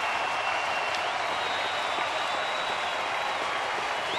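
A baseball stadium crowd of more than 35,000 at a Miami at Philadelphia game keeps up a dense, continuous roar of applause and cheering, distant and steady throughout.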